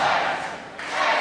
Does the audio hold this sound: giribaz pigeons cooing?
no